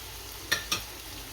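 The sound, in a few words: stirring onions and tomatoes with spices in a pan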